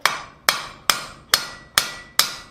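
A hammer strikes a rivet held on an anvil while a coal shovel is forged, six sharp ringing metallic blows at a steady rhythm roughly half a second apart, close and loud, each decaying quickly.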